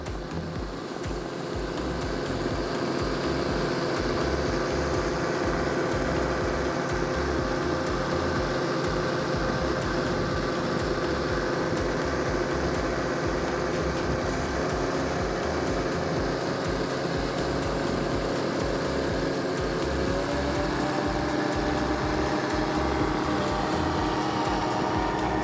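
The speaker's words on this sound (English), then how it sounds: "let's listen to this 43 as he cranks up the throttles and gives us all what we came for" A powerboat fitted with three Mercury Racing 500 EFI engines throttles up on open water during a winter poker run, a steady loud engine roar that swells and rises in pitch partway through, with no talking.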